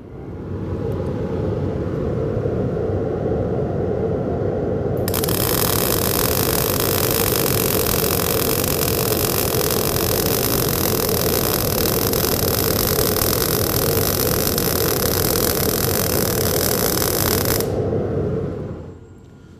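MIG welding with the wire feed speed set too low gives a steady crackling, hissing arc that lasts about twelve seconds, close and loud over a constant machine hum.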